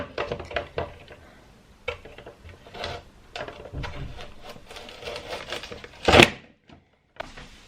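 Irregular scraping and rasping strokes of a potato rubbed against a grater come in short bursts with pauses, plus one sharp clatter near the end. No talking.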